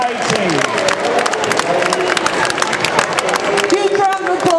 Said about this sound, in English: Huge round of applause for these people who've travelled here today